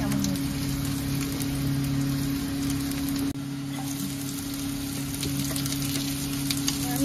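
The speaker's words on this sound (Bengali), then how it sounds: "দেখুন এখানে ক্যাপসিকাম আর রসুনটা ভাজা হয়ে গেছে" Capsicum and garlic fry in hot oil, a soft steady sizzle with a constant low hum beneath it, fairly quiet and unbroken apart from a brief dip partway through.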